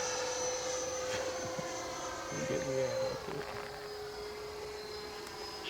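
A Freewing RC jet plane flying overhead on approach to a narrow runway gives a steady whine with a shifting tone, at moderate distance, throughout.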